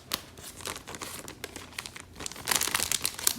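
Sticker packaging crinkles and rustles as it is handled, a run of close, crisp crackles through the clip that grow denser and louder toward the end.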